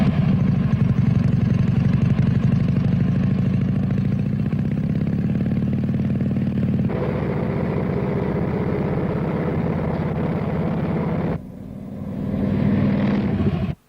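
A motorcycle engine runs steadily during a test ride, a loud continuous low drone with a shift in tone around seven seconds and a brief dip near the end before it picks back up.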